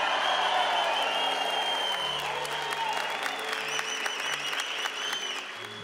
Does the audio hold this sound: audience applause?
yes